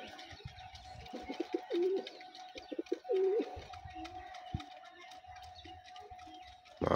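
Pigeon chicks coo with a couple of low, soft, wavering calls, close by among light scratching and shuffling noises in a quiet space.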